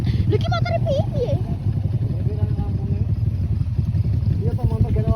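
A motorcycle engine rumbles low and steady on a night trail ride on Atas Angin, close by and continuous, while several people talk over it.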